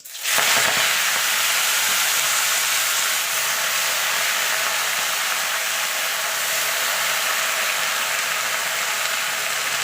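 Spinach hitting hot oil tempered with five-spice, bursting into a loud, dense sizzle that starts abruptly and holds as a steady broad hiss with no voices.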